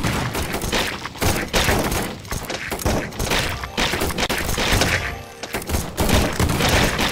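Dense, continuous gunfire and thudding impacts from the zombie game Run!ZombieFoods! form a loud, relentless barrage with brief dips, busy and chaotic throughout.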